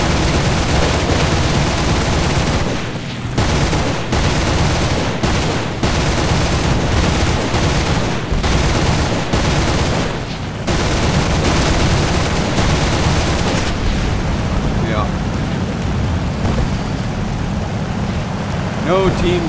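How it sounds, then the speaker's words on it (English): Rapid gunfire bursts from a War Thunder match, with repeated loud volleys and short pauses over a dense engine and battle rumble, going on throughout. "I'm over here getting shot at."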